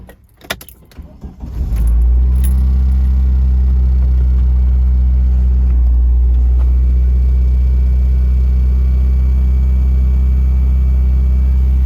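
A Shelby Dodge Daytona Turbo Z with a turbocharged engine cranks and catches, then settles into a loud, steady, deep idle rumble that holds unchanged close by for around ten seconds.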